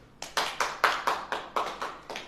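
A short run of about nine sharp, evenly spaced hand claps from a church congregation, close and fairly crisp, with no talking over them.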